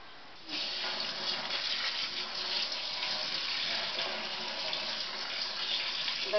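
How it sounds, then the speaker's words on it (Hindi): Rice rinsed in a sieve under a running kitchen tap, a steady close hiss of flowing water that starts abruptly and continues evenly. "छलनी में इस तरह से चावल को रख लेंगे और नल के नीचे हम इसको धोएंगे।"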